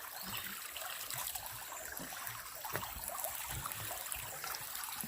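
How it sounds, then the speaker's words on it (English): A deer splashes in a creek while drinking on a forest trail in the Appalachians, a steady faint trickle of water with soft irregular splashes, slightly louder near the middle. "That's a deer splashing around, drinking."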